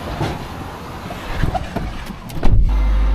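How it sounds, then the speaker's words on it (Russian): The ramp of a car hauler trailer slides outward as the rear wheels turn, a continuous low mechanical rumble and grinding that grows rougher and louder toward the end. "я сейчас двигаю, задние колеса крутятся и рэмпа выезжает"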